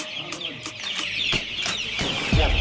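Month-old Andijan black chicks cheep and cluck in a loud, busy chorus, with sharp repeated calls over a steady chirping background and a brief low thump near the end.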